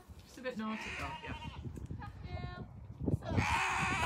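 Goats at a wildlife park bleat a few times in short wavering calls close by, with people talking over and between them.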